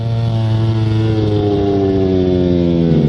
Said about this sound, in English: Miller's on board here with Franco Morbidelli